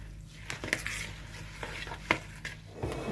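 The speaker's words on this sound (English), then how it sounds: "Now mix that all together thoroughly." Cauliflower rice is stirred with stock, pepper, salt, garlic powder and olive oil, a soft close scraping with a few light clinks against the dish and no voices.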